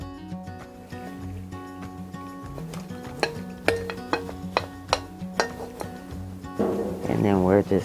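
Dough ingredients for fluffy fry bread being stirred in a bowl, with a spoon scraping and clinking against the sides in a steady round-and-round rhythm, close up, while someone talks.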